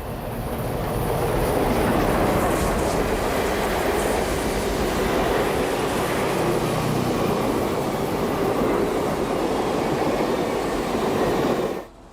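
A Southern Pacific steam-era commuter train passes close by, a steady broad roar of wheels and cars on rails that holds loud throughout, then cuts off abruptly at the end.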